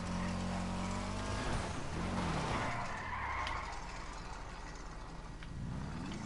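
Tires squeal and skid as a race car drifts in a video game, a loud continuous screech with sweeping pitch bends over engine roar, fading slightly toward the end with no talk.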